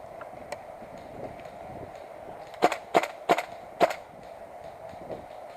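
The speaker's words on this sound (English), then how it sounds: "I hear shots, but definitely don't see them" Gunfire in a woodland first-person shooter game, four sharp cracks in quick succession fairly close, preceded by a few fainter distant pops over low ambient background.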